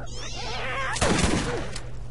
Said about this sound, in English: There's like a cat around here.